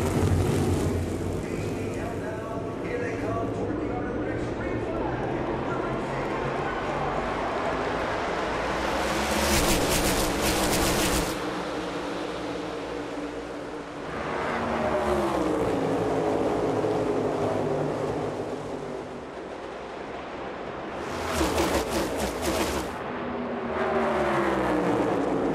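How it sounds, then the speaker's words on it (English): NASCAR stock cars roar at the start of the Brickyard 400 at Indianapolis Motor Speedway: a continuous engine drone swells into two loud passing bursts as the field sweeps by. "Reddick in the 45, surging ahead of the 11 of Denny Hamlin."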